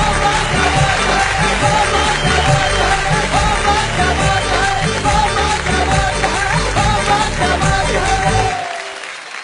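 An audience claps loudly for a Hindi comic poet on stage, a dense sustained round of applause with some cheering that stays strong before cutting off abruptly at the end.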